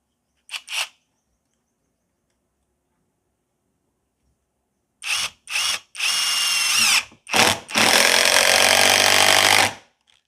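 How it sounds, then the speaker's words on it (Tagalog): A brushless impact driver sinks large heavy-duty screws into wood with no pilot holes: a short burst near the start, then after a pause several loud, close hammering runs, the last one long and sustained. "try naman natin ito heavy duty na screws, yung malalaki talaga. So, wala rin pilot holes to, try natin."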